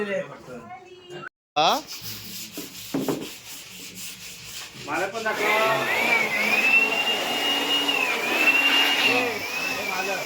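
A teak wood palanquin is polished with a power sander, giving a loud, continuous close rubbing whir with a whining tone after a few scattered knocks and some speech at the start.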